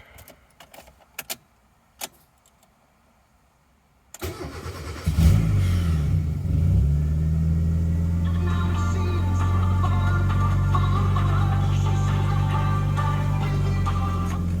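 A big block car engine cranks and fires after a spark plug change, settling into a loud, steady idle rumble that holds for about ten seconds, preceded by a few key clicks and near silence.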